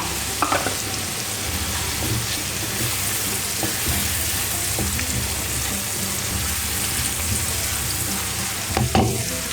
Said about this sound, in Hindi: तो मैंने घी लिया था थोड़ा सा ऑयल तो डाल के मैंने लहसुन इसमें डाला। ये मैंने प्याज ऐड कर दिया।